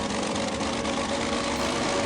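The engine of a Ki-61 Hien fighter plane, shown in 3DCG, runs in a steady, droning idle with a constant low hum and rough vibration. No voices are heard.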